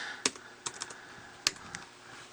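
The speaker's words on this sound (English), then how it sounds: "testing this keyboard." Keystrokes on an Acer Aspire One Cloudbook 14-inch laptop keyboard, a few quiet, irregular clicks close up with no talking.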